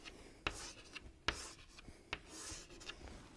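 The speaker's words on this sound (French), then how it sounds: "je vais dessiner ceci par exemple" Marker or chalk scratching on a classroom board during a math lesson, a few sharp taps and rubbing strokes spaced across the moment, fairly quiet with no talk.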